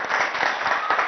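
An audience at a Tamil comedy political-rally sketch applauds in a short burst of dense, steady clapping, close and loud.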